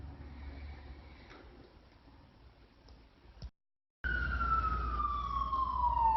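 An emergency vehicle siren wails, a steady falling tone that grows loud after a brief dropout, preceded by faint distant wailing.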